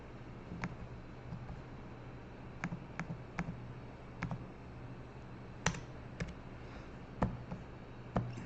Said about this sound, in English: I'm going to type in duration.